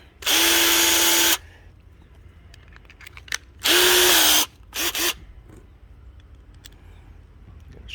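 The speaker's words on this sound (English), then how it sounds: "I'm going to drill, actually." A power drill drives screws into a DIY bird house in two whirring bursts of about a second each, followed by a short double buzz, with quiet handling clicks in between.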